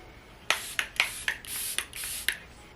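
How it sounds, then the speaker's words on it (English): Charlotte Tilbury setting spray misted onto a face in a series of short, close hissing bursts, some quick puffs and a couple of longer sprays, with no talking. "I'm going in with the Charlotte Tilbury Setting Spray."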